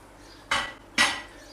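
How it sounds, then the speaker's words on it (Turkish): Two sharp metallic clanks about half a second apart as a lid is set down on a pot of chicken noodle soup, in an otherwise quiet room. "Kapağını kapatıyoruz."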